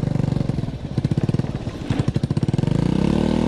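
A China Power 50cc four-stroke scooter engine runs close by with a rapid, uneven putter that pulses through the throttle and swells steadily toward the end, with no voices over it.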